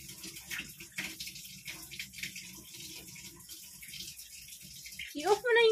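Tap water runs steadily from a faucet throughout, with people talking over it while tasting a sour fruit, and the flow stays fairly even until a brief louder burst near the end.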